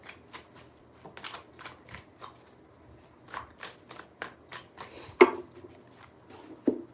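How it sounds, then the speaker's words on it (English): Tarot cards being riffled and shuffled three times, a run of quick crisp card flutters with brief pauses between, close and fairly quiet, with a sharper tap near the end. "3 shuffles."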